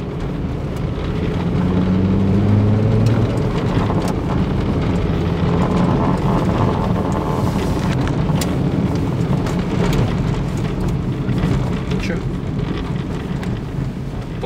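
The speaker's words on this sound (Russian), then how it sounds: "вот здесь вот она воет при сборе скорости" A 2007 Hyundai Accent budget sedan whines from its gearbox while picking up speed, a steady drone riding over loud road and wind rumble throughout, with faint talk in the cabin.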